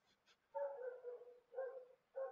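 A dog barking indoors in the background, a few short muffled barks in quick bursts, fairly faint and distant.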